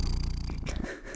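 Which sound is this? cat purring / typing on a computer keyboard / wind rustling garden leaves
cat purring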